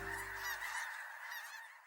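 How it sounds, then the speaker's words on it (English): Snow geese honk loudly in a dense, overlapping chorus, close and continuous. "Snow geese,"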